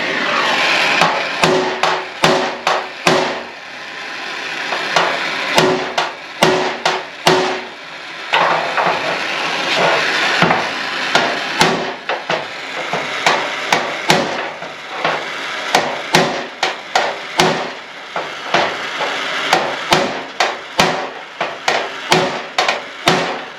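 Heavy hammer blows ring out on a red-hot steel hot rod frame in irregular bursts, some in quick pairs, others spaced apart, loud and close throughout.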